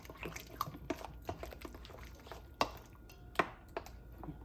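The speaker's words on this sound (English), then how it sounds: "mix that in with the mayonnaise and the cream of mushroom soup" Vegetables are stirred into mayonnaise and cream of mushroom soup for a casserole, making wet squelching and slopping sounds with irregular spoon knocks against the bowl, two sharper clacks standing out.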